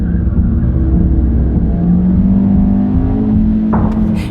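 A car races away at high speed from a robbery, its engine droning loud and steady with a rising rev and a sharp burst near the end.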